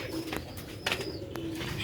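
Sialkoti and Ferozpuri pigeons coo softly while being held in the hand, with low throaty calls repeating unevenly over steady background noise and a few brief rustles.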